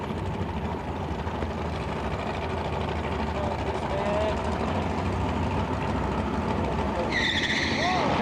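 A drag racing car running down the strip at a 1997 Phoenix convention: a sustained, distant engine roar with crowd and announcer-style voices mixed in, ending with a brief high squeal.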